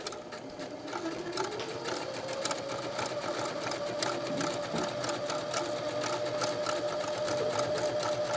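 A sewing machine runs steadily with a double needle, stitching elastic onto a swimsuit, its fast rhythmic motor whir and needle chatter close and continuous, with a slight pitch rise as it gets up to speed.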